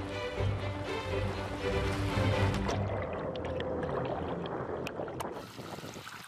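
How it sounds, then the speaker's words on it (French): Underwater, a large ship's propellers churn with steady engine noise in a river where seals hunt, a deep continuous rumble with tonal hum that thins out toward the end. "Le bruit des hélices et des moteurs semble interrompre leur chasse"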